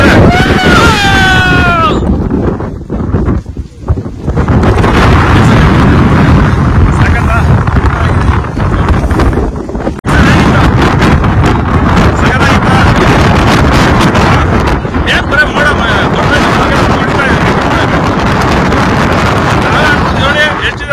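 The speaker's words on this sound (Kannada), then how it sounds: "ಗಾಳಿ." Loud, continuous wind roars and buffets the microphone throughout on a hilltop at Mandalpatti, India, with a voice briefly heard near the start.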